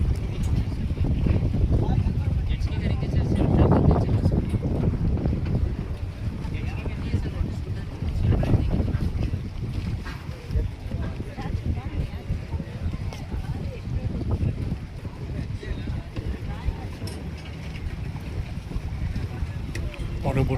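A boat waits at the Ross Island jetty in the Andaman Islands, getting ready for its next trip; a steady low rumble of engine and water runs throughout, buffeted by wind noise on the microphone, with voices talking now and then.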